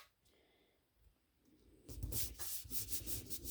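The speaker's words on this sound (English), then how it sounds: "And then I just lay it on top and rub it a little bit, apply pressure." Paper laid over a stamped floral heart card is rubbed by hand to press it down. Faint handling sounds come first, then a closer, louder scratchy rubbing for the last second and a half.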